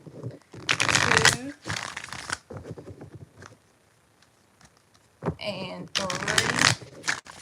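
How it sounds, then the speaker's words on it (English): Tarot cards shuffled in quick bursts of papery riffling, with stretches of talk before and after, and a brief pause of near silence in the middle. "4 shuffles."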